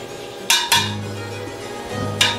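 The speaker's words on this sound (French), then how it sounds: "Petite louche, je dégraisse." A small ladle knocking against a pot while skimming fat from simmering beef bourguignon, giving three sharp metallic clinks over a low steady background hum, close and clear with no talk.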